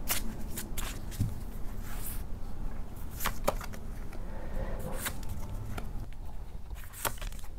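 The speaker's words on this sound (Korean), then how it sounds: "일반 타로 카드도 뽑아볼게요" Tarot cards being shuffled at close range, with a continuous rustling and flicking of card stock and a few sharper snaps and taps standing out, steady and moderately loud throughout.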